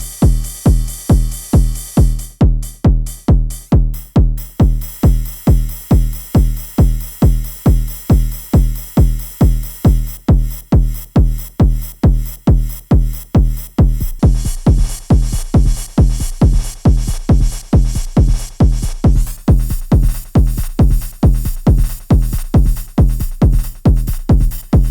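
Modular synth drum pattern with a steady pounding kick and hi-hats, an LFO accent making each hit swell and duck as if sidechained to the kick, loud and relentlessly rhythmic with no talking throughout.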